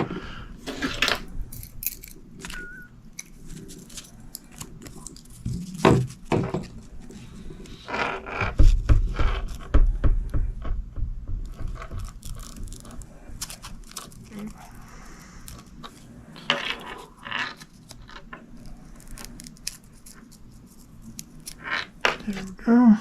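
Scissors trimming a feather for a painted ornament, quiet close snips and small clicks scattered through the clip, under occasional talk nearby.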